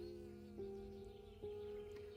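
Bees buzz among the first open spring blossoms, a faint steady drone with a couple of slightly louder passes close by.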